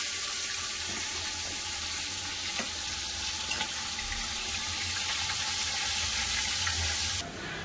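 Fish frying in hot white oil in a wok, a steady close sizzle and crackle that holds throughout without any talk, brightening sharply near the end.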